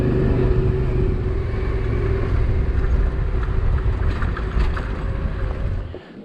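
A motorcycle on a sandy four-wheel-drive-only track near Coffin Bay, South Australia, its engine a loud continuous rumble mixed with wind buffeting, easing off and dropping away at the very end.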